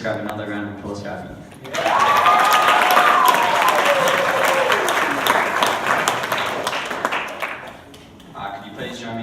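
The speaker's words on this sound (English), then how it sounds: "Can we just grab another round of applause for Abbey?" Church congregation applauding after a personal testimony, steady dense clapping starting after a quiet moment and holding for several seconds before easing, with voices and a sung or spoken tone mixed in.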